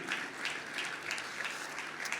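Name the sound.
church congregation applauding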